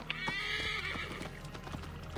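A horse in Assassin's Creed Origins gives a loud, close whinny as hooves clip-clop steadily beneath it, briefly and without talk.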